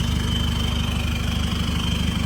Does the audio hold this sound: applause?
no